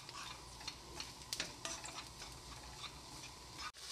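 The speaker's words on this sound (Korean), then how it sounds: "그래서 기대하면서 지금 볶고 있는 거예요." Small squid stir-fried in a pan, with quiet, steady sizzling and a few sharp scraping stirs, heard close and alone.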